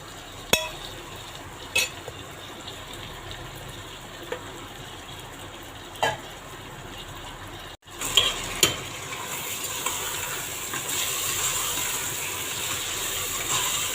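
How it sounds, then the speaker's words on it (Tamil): Prawns washed with turmeric and salt sauté in a pan for biryani, with a soft steady sizzle and a few sharp clinks of a spoon stirring, the frying growing louder and fuller partway through. "இப்போ இறாவை போட்டுட்டு நல்லா வதக்கிடலாம்."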